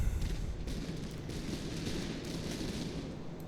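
Musket volley fire in the Master of Command video game, a dense rolling crackle of many shots blending into a sustained rumble, moderately loud and continuous for a few seconds.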